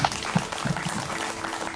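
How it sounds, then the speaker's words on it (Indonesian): Audience at a school event in Purwakarta applauding students, a dense, even burst of clapping from a crowd that fills the short moment without speech. "Tepuk tangan untuk mereka."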